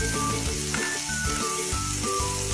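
Pork neck and chopped onion sauté in olive oil in a large casserole dish, giving a steady close sizzle under faint rhythmic background music.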